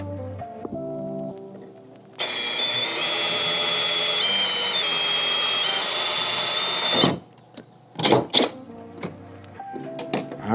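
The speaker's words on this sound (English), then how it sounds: "Let's drill a hole and cross our fingers." A power drill bores a hole for mounting a battery tray and air compressor, one loud steady whine lasting about five seconds before stopping, followed by a few short bursts.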